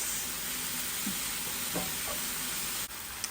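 Shaved beef seasoned with garlic powder and cracked pepper sizzles in a pan, a steady soft hiss with a few faint pops and a small clink near the end.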